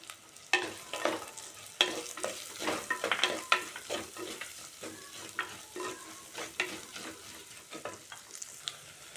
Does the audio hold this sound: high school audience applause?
no